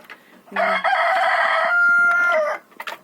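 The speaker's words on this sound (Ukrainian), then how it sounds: "Півники, індики в нас тут закриті." A single rooster crows loudly and close by, one long drawn-out call lasting about two seconds, with faint clucking around it.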